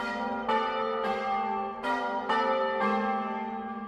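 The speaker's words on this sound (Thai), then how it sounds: "วัดจะตีระฆังทั้งหมด 108 ครั้ง" A Buddhist temple bell rung for the New Year is struck five times in quick succession, each deep, resonant strike ringing on and overlapping the next, loud and clear with no talk.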